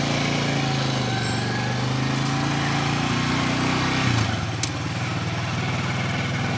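A motorcycle fitted with a speed controller switch runs continuously while being ridden at low speed, a close, steady buzzing engine drone that dips slightly in pitch partway through.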